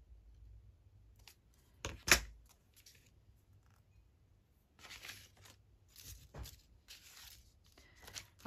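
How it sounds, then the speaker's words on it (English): Scissors snip off the corners of paper in a journal made from antique book pages, giving a few close, quiet cuts with one sharp louder snip and soft rustling between them. "I'm just going to snip off my little corners."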